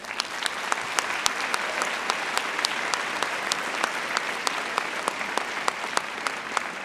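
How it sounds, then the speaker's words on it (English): A large audience at an evening speech and debate recognition ceremony applauds steadily for the sponsor, Colorado College, a dense even patter of many hands with sharper individual claps, no speech. "Let's give a huge round of applause to our sponsor of tonight's recognition ceremony, Colorado College"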